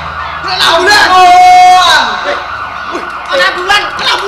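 An ambulance-style siren wails with rising and falling tones, loudest in the middle, during a Javanese ketoprak stage performance, with voices and stage noise throughout.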